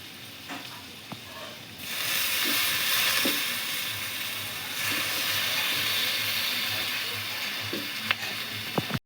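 Greens drop into a hot pan and start sizzling loudly, a steady frying hiss that swells after the first couple of seconds and carries on with small clinks of stirring, no talking.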